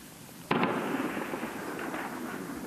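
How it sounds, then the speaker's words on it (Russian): Large-caliber gunfire at the front at night: one sharp distant report followed by a rolling echo, with fainter bursts after it over a steady outdoor background, and no talk. "вот слышно, как боевики уже открыли огонь из крупнокалиберного оружия"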